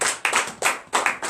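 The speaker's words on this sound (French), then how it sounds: "Donnons l'acclamation au Créateur." A congregation at a morning prayer service claps in unison, a series of loud, sharp group claps in a quick irregular rhythm, close and with no talking.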